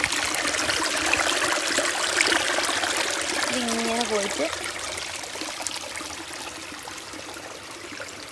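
A stream runs continuously near the microphone, its steady trickling wash heard throughout while someone talks over it.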